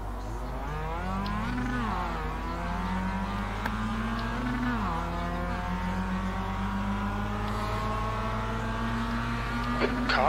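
A racing car engine in a Mazda racing game revs and accelerates hard off the start, a loud, close drone that climbs through rising gear sweeps, drops at shifts and climbs again, with no talking over it.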